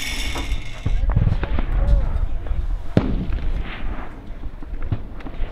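A Hellcat firing: a single sharp explosive blast cutting through outdoor rumble, with people talking around it.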